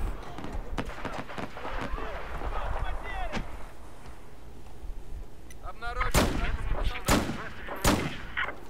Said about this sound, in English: Oh, that's a sniper.